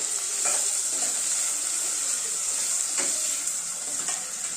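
Onion and curry leaves sizzle steadily in a pan of hot oil for a spicy misal gravy, a continuous bright hiss with occasional soft scrapes of stirring, close and alone without any talking.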